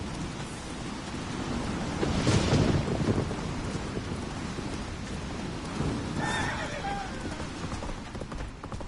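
Roach, the horse in The Witcher 3, gallops with steady clip-clop hoofbeats and lets out a neigh partway through, over rain and rumbling weather in a stormy outdoor setting, with voices speaking over the action.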